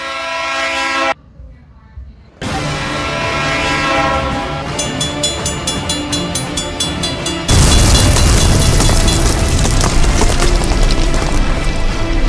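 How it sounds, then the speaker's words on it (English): Loud train sounds in stages: a blaring horn, a short gap, rhythmic clattering of rail cars, then a heavy roaring rumble close by. "Gotta honk the horn."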